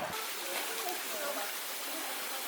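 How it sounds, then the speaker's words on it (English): Water flows through a partly frozen waterfall at Hilton Falls, Ontario, on a winter day, making a steady, continuous rushing hiss at moderate distance with no breaks. "You can see the water flow still."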